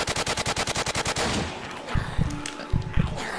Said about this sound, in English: Shit, I'm getting shot at a lot.